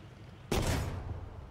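Gunfire in a WW2 strategy video game, a single sharp burst that hits suddenly and fades into a rumbling tail over about a second, with no talk over it.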